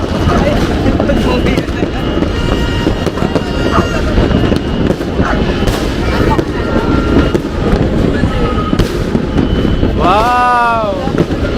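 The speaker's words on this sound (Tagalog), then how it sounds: "Ayos yung paputok nun, ah." Fireworks and firecrackers burst on New Year's Eve, a dense, continuous crackle of explosions with whistling rockets near the end, loud and close, with wind buffeting the microphone and voices talking throughout.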